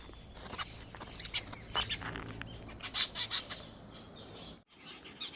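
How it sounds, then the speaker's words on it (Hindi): Birds fighting outdoors in a rural hill setting, with rapid wing flapping and harsh squawking calls over a steady rustling background, fairly close and busy, then briefly cutting out near the end. "पक्षियों की आपस में लड़ाई हो गई भाई तगड़ी"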